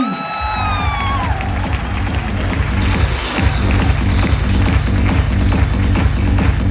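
A large audience at a motivational talk in Lucknow claps and cheers, with whoops and shouts over a dense, steady wall of applause and a pulsing beat underneath, loud and continuous throughout.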